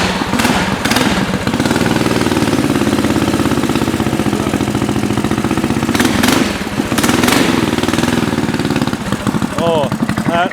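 A 420cc race bike engine runs steadily at a loud, close idle with a chugging, clattering rhythm, dipping briefly before settling back, while people talk over it.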